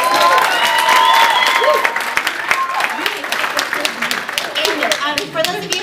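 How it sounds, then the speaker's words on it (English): Another round of applause rises from an audience, dense clapping with cheers and chatter overlapping it; the clapping thins into scattered individual claps as voices keep talking over it. "let's give another round of applause"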